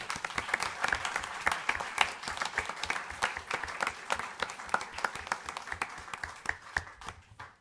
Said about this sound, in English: These youth deserve a round of applause.